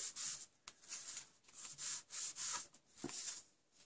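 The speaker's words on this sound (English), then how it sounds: "Pop it down, give it a good rub." Paper being rubbed down by hand onto a handmade birthday card decorated with springtime foils, a series of soft, close, rhythmic rubbing strokes with brief pauses between them.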